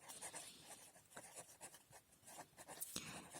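Handwriting on paper during a maths lesson, faint and close, with quick scratchy pen strokes in short irregular bursts separated by brief pauses.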